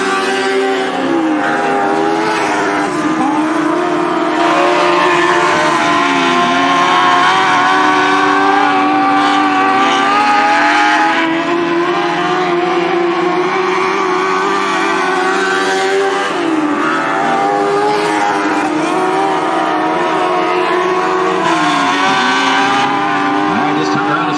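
ASCS sprint race cars roar continuously around a speedway oval, loud engine drone rising and falling as they pass, with a commentator talking over the din throughout.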